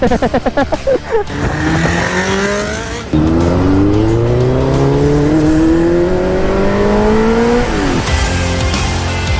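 A Kawasaki Z900 motorcycle revving hard while being ridden, with rapid throttle blips followed by long rising engine pulls through the gears, loud and close.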